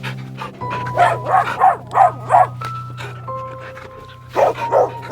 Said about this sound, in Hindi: उन कुत्तों को देख कैसे मुर्दा घर के बाहर घूम रहे हैं